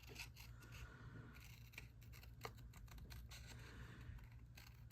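Scissors fussy-cut a paper cup shape for a craft project, a quiet, close run of rapid snips and paper rustles repeating steadily with no voices.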